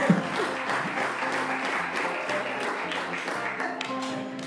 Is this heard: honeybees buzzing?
no